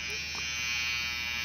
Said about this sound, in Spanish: Se estaba afeitando el otro.